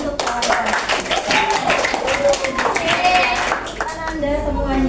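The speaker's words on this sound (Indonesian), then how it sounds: "Tepuk tangan dulu untuk kawan-kawan." Students in an Indonesian maths classroom clap for their classmates: a continuous patter of hands mixed with busy chatter and voices throughout, fairly loud and close.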